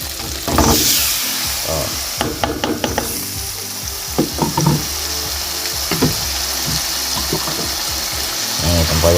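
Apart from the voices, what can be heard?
tempoyak (fermented durian) frying with chili in a pan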